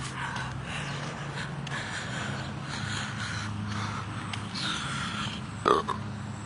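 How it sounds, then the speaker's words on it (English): A man burps once near the end, a short close gulping eructation that follows several seconds of steady low background hum and faint breathing noises. "Every time I burp, it tastes like bacon"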